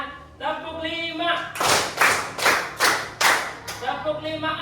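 Hands clap five times in an even counted rhythm in a classroom, sharp and close, with a teacher's voice speaking before and after the claps.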